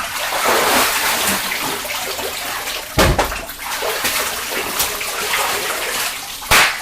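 Cold water splashing and churning steadily throughout, broken by two sharper, louder splashes near the middle and at the end, with no talking.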